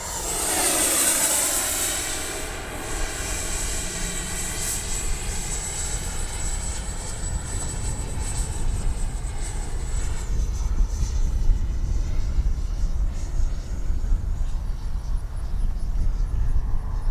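An Arrows RC F-15 64mm twin electric ducted fan model jet whines loudly in a high pitch as it approaches, then its tone drops sharply as it passes, and its roar fades and rumbles on; no voices.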